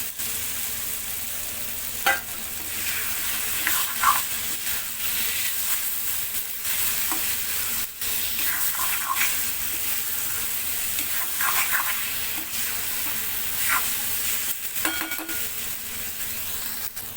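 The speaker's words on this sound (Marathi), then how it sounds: "मसाल्याला आता छान तेल सुटलेलं आहे। बटाटे टाकून घेऊया." Continuous sizzling as potatoes fry in hot spiced oil, with scattered scraping and stirring sounds throughout, moderately loud and without speech.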